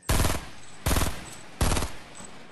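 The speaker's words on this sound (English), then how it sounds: "Alright, I got the minigun, bro." Minigun firing in Fortnite: three loud sustained bursts of rapid automatic fire, each lasting about half a second with short gaps between them.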